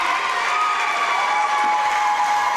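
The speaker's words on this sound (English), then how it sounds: "as the crowd cheers for Audrey" Crowd cheering and shouting fills a high school gym during a senior-night girls' basketball game against Grace Christian, a steady, dense roar of voices that holds loud and close throughout.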